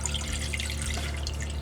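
Tap water runs and splashes into a pot for soup stock, making a continuous close trickle with a light bubbling texture over a low hum.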